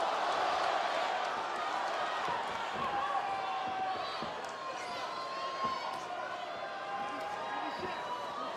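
An Atlanta arena crowd roars steadily through a Poirier vs Holloway fight, a broad, sustained wash of cheering from a distance, with a commentator talking over it.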